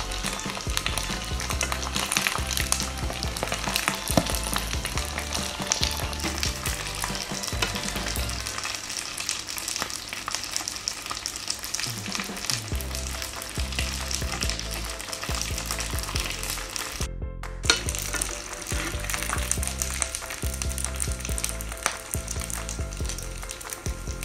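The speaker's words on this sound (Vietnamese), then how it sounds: "bây giờ mình sẽ đi chiên nốt phần da ếch các bạn nhé" Oil sizzles and crackles steadily as frog skin fries in a pan for a long stretch, with occasional stirring scrapes and a brief pause.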